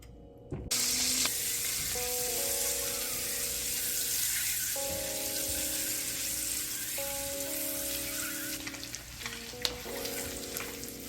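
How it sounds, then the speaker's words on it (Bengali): Boiled eggs fry in hot oil and butter with turmeric, a loud steady sizzle and crackle running throughout, broken by occasional stirring clinks and scrapes close by. "সিদ্ধ করা ডিমগুলোকে কেচে নিয়েছি আগেই যাতে ফুটে না ওঠে কেচে নিয়ে আমি এখন এগুলোকে হালকা ভাজি করে তুলবো"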